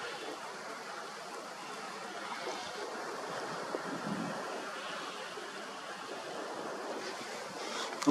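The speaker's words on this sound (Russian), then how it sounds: "ветер совсем разошелся" A strong wind blowing outdoors during a night of telescope viewing of planets, a steady broadband rush buffeting the microphone with slowly swelling gusts, loud and continuous with no voices.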